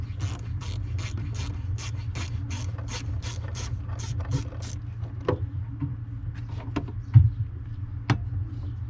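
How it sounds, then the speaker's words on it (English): A ratchet with a 7/32 socket backing out screws on a 2010 Audi Q5 blower motor gives about a dozen quick, evenly spaced clicks. A few scattered clicks and taps follow over a low background hum. "7/32 socket to remove the two screws"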